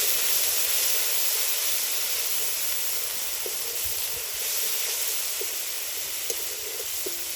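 Water is splashed into hot frying garam masala spice paste in a pan while making a fish-head muri ghonto, giving a loud, steady sizzling hiss that carries on for several seconds without speech.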